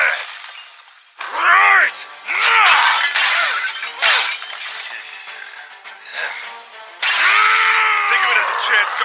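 Skeletons are smashed in a video game, giving repeated loud shattering, bony cracking bursts in quick succession, with a brief shout between hits.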